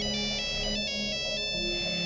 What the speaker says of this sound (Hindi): कि तभी मेरा फोन बजा। मेरा उस समय एक साधारण सा नोकिया का फोन था।